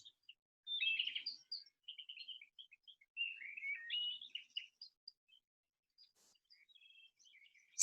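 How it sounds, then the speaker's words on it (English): Birds singing in trees, with bright chirping and warbling phrases in steady bursts, moderately near and alone against a quiet background. "birds sing in the trees once again"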